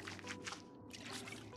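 Water pours and trickles from a water cooler in the video game Project Zomboid, a continuous, faint liquid splashing with bubbling gurgles throughout.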